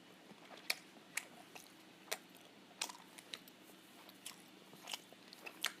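Close, crunchy chewing of a whole bite of chewy octopus sushi, with sharp wet bites and crunches popping out at irregular intervals over quiet mouth sounds.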